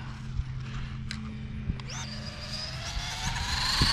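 Losi Promoto RC motorcycle driving, a thin electric motor whine rising in pitch as it accelerates away and back, with small knocks and a rising buzz near the end, fairly close outdoors.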